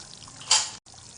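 Coconut milk poured into a simmering meen kulambu (fish curry) on the stove: a brief, soft liquid splash lasting about a quarter second, then a quiet background.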